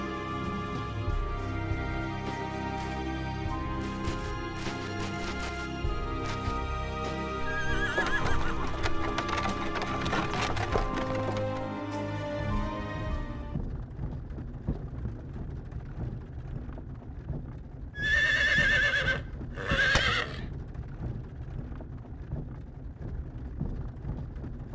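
Horses pull a wagon away in a Star Ocean: Till the End of Time scene, a loud whinny and steady clip-clop of hooves under a dense musical score that fades, then two short neighs rise later.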